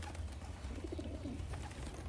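Pigeons coo softly inside a house, a few low, rolling coos over a steady background hum, with no talking.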